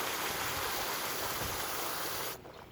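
Water poured from a container into a planting hole in the garden soil makes a steady, loud rushing gush close by, then cuts off abruptly near the end.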